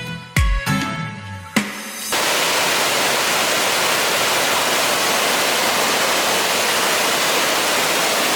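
A waterfall in Ubud, Bali roars as a steady, dense wash of falling water, loud and close, after a few brief knocks and footsteps at the start.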